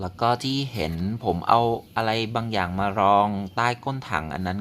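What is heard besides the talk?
None of the usual background noises is heard.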